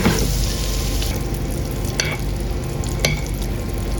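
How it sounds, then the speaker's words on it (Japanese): Butter sizzles steadily in a pan around a crushed-cracker-coated cheese cutlet, a loud continuous frying hiss with a few sharp crackles and no talk. "ひっくり返したらこちらにバター少しずつ入れていきます。"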